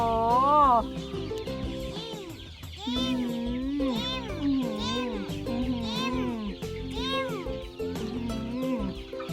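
Chickens by a rural coop cluck and call in repeated, rising and falling bursts, fairly close, with other voices mixed in around them.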